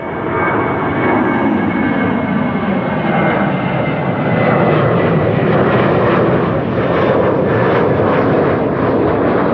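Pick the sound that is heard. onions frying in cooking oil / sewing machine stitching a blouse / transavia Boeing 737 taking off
transavia Boeing 737 taking off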